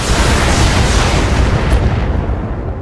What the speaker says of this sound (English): Firing on target.